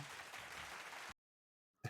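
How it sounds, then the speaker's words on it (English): Recorded applause sound effect dropped into a pinball podcast: a short, dense burst of clapping and crowd cheer lasting about a second before cutting abruptly to silence. "You can't just keep playing the applause break."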